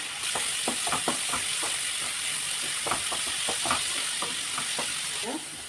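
Chopped onions with a spoonful of salt fry in a pan on a gas stove, giving a steady close sizzle and hiss broken by repeated scraping stirs.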